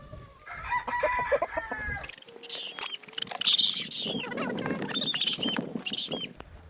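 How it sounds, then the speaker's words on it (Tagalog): Several fighting roosters (game fowl) crow and cluck close by, overlapping calls rising and falling in bursts, with no talking. "mga panabong na manok."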